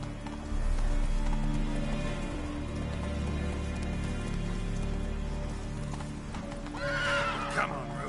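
A horse in The Witcher 3 video game gallops with rhythmic clip-clop hoofbeats through rain, then neighs loudly near the end, all close and continuous.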